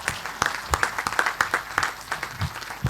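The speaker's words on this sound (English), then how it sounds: "Let's all clap for the Air Force." Seminar attendees at a defense conference on space-enabled precision and deep battles clap for the Air Force, a moderate round of distinct, irregular hand claps from a modest crowd, close and fairly steady for a few seconds.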